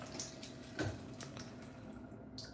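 Water running from a turned-on tap, a steady, fairly quiet wash of flowing liquid with a brief splashy burst near the start, heard alone without voices.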